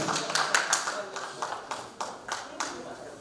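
An audience at a singing contest's grand finale claps for the helpers: fairly faint, uneven rounds of hand claps mixed with a speaking voice.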